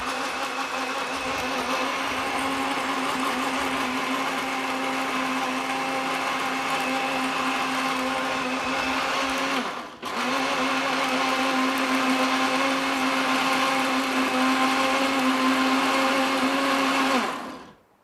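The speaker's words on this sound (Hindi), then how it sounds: "तकरीबन 4 से 5 चम्मच आपने इसमें चीनी डालना है और इसको ब्लेंड कर लेना है।" A blender whirs loudly and steadily through falsa fruit and sugar, dips briefly about halfway, then picks up again and runs until it cuts off at the end.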